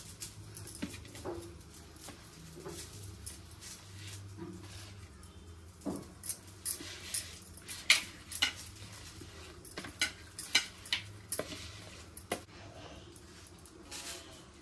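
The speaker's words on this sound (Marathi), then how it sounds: "असं आतपर्यंत चांगलं चोळून घ्यायचं मीठ" Salt being rubbed into a whole pomfret fish by hand, a quiet, close run of soft wet rubbing, light taps and occasional clinks against a plate, growing busier toward the end, with no voices.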